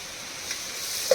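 Onion, garlic and tomato fry in a pan with a steady close sizzle and hiss, a single brief clink near the end.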